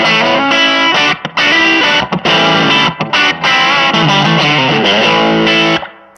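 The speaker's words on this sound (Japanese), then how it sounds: "こっちのプライムギアをちょっとプッシュしてあげると" Electric guitar through an overdrive pedal boosted by a Prime Gear booster, playing loud, thick mid-heavy distorted chords and riffs with brief gaps before ringing out at the end.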